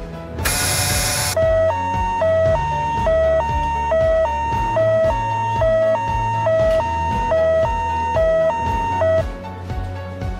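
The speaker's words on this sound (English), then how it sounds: "Fire truck." Fire truck siren in a two-tone hi-lo wail, cycling steadily and loudly for about nine seconds after a short burst of noise, over a rhythmic backing beat.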